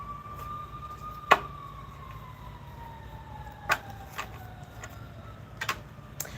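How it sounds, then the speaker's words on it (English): A siren wails in the distance, a long gliding tone slowly falling in pitch, with a few sharp clicks and knocks nearby. "You hear the sirens in the background"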